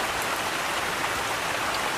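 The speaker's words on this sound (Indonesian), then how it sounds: "Dan hujan pun gak mau berhenti." Rain falls steadily outdoors during a hunt for monitor lizards, making a constant close hiss of drops that stays even throughout, with no clear voices.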